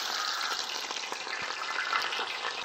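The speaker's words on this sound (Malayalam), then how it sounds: "എണ്ണ ചൂടായിട്ടുണ്ട്. കുറച്ച് കടുക്." Mustard seeds crackle in hot oil in a village-style cooking setup for a large katla fish curry, a steady close sizzling hiss dotted with small pops, loud and continuous with no talk.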